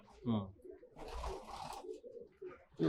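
A Bara Pari Kaldumba pigeon, a bird brought in from outside, coos in low bursts at the start and close to the end, with speech and handling noise in between.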